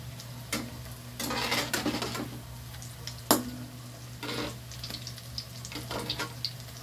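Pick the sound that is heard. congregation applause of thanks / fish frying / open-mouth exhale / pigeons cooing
fish frying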